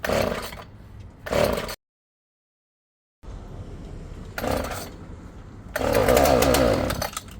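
A small two-stroke Husqvarna 36 chainsaw engine sputters in short bursts, cuts out to silence, then catches and revs loudly, running rough but sustained, its carburetor needing adjustment.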